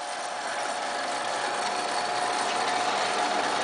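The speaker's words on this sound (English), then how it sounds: "When you turn the switch on, the coolant pump comes on." MSC 7X milling machine just switched on, its coolant pump running: a steady, loud, even mechanical hum with a faint whine throughout, no talking.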